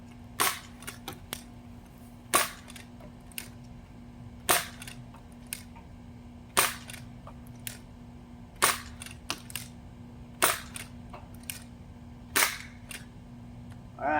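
A modded Nerf Desperado blaster fires darts in a run of sharp, snappy pops spaced a second or two apart, each crack clear and close over a low steady hum, with smaller clicks of the cylinder rotating and the trigger being worked in between.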